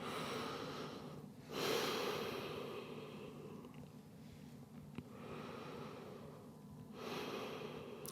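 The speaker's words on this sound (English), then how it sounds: "Take a few breaths here." Slow, faint breathing during a yoga child's pose, with several long airy inhales and exhales spaced a few seconds apart, close and quiet with no talking.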